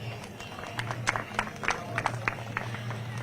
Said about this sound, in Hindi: उसके लिए हो जाए जोरदार तालियां